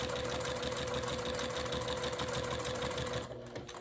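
A sewing machine stitches quilt binding near a corner, running in a steady, rapid mechanical hum before slowing and stopping at the end.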